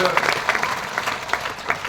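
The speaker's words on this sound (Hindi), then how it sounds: "सभी लोग एक बार शानदार ताली जरूर बजाएं सर के लिए" An audience in a seminar hall claps for the speaker, giving a steady, moderately loud patter of applause with a faint murmur of voices underneath.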